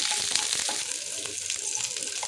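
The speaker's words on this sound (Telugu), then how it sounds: "ఆయిల్ హీట్ అయిన తర్వాత కొంచెం పచ్చిమిరపకాయలు వేయించుకోవాలి." Green chillies fry in hot oil in a pan, giving a steady close sizzle with a few faint stirring clicks, with no voice over it.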